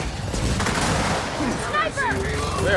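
Gunfire in the video game Gears of War 4, a steady spray of shots. Voices call out over the shooting.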